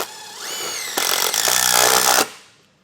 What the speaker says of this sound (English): Now we'll take that self-tapper and run it into place.